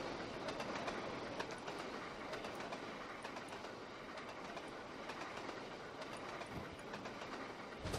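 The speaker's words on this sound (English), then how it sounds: "And there's a goods train waiting for us" A goods train in the Trainz: A New Era simulator runs on the Settle and Carlisle line, giving a continuous rolling rumble with rhythmic clickety-clack from the wheels, steady and fairly quiet.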